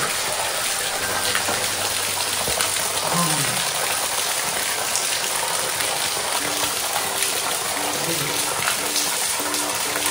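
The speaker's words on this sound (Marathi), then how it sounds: "नळ असण्यासारखं पाणी पडतंय" Clean water pours down like a running tap at a spring on the Sudhagad fort trek, making a continuous loud rushing splash close by with no pauses.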